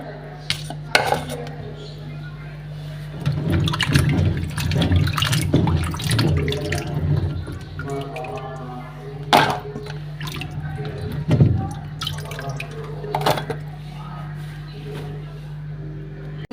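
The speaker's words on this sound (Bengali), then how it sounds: "এই যে এখন আমি মূলাগুলো ধুয়ে নেব রান্না করার জন্য।" Radishes being washed in a sink for cooking: water runs steadily from a tap while dishes and a pot clatter and knock at close range, with someone talking over the splashing.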